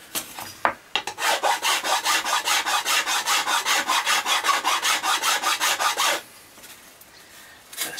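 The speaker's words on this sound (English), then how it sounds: "I've got here hand files which I can use" Hand file rasping along the edge of a prop machete in quick, even strokes, about twenty close and loud passes in steady rhythm before stopping.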